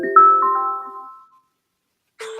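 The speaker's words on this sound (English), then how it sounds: "my phone. I'm getting a call." A mobile phone ringtone from an incoming call, a loud chiming melody of a few tones that fades out, then starts again after a short silence.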